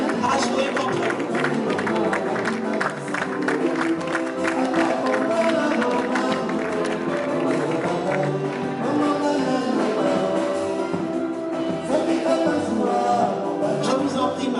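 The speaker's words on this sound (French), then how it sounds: "Merci d'applaudir." Sustained applause and clapping from an audience at a gala evening in a hotel, steady and dense across the whole stretch, with a murmur of crowd noise mixed in.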